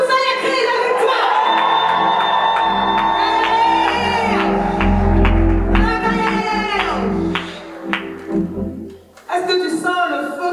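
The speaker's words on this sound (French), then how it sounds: "Est-ce que quelqu'un peut pousser les cris de victoire?" A crowd at a church teaching event shouts and whoops with loud sustained victory cries, voices rising together, then breaking into scattered yells and claps before fading.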